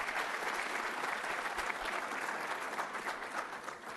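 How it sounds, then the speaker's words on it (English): Sustained audience applause at a graduation ceremony, a dense wash of clapping that holds steady throughout and eases slightly near the end, with no voices over it. "A round of applause for them, ladies and gentlemen."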